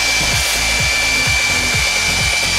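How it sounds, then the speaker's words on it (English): A blow dryer blows steadily and loudly throughout, a constant whooshing hum with a faint high whine and some low rumbling beneath it. "Yeah, I have a blow dryer right there."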